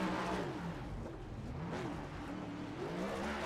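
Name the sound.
race car burnout at Sonoma turn 11 in a racing video game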